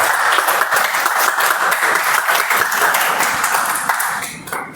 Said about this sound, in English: Can you give another round of applause for him?